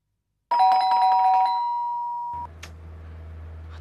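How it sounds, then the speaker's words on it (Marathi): An electronic doorbell rings late at night inside a home, a clear, loud chime of a few tones that fades out, leaving a low steady hum and a faint knock. "काय अरे डोअरबेल वाजतीये."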